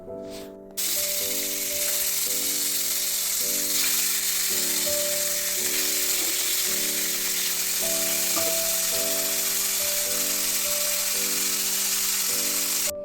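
Pabda fish and brinjal fry together in a pan, giving a constant bright sizzle that starts abruptly and carries on evenly, with music playing over it.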